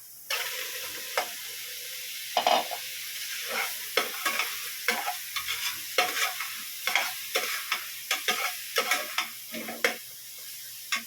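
Sliced chicken sautés in a pan for macaroni soup, with a soft continuous sizzle broken by repeated sharp spatula scrapes and taps against the pan, close and fairly quiet.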